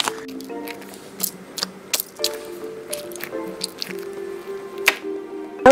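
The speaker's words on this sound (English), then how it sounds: "When you squish on it, there's little Orbeez inside." A jelly pizza toy filled with Orbeez is squished by hand, giving close, wet squelching pops and drippy squishes in an irregular rhythm, quiet and alone.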